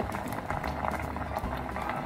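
Daikon simmers in miso and soy sauce in a pot, giving a close, steady bubbling and gentle popping of boiling liquid that continues evenly throughout without talking.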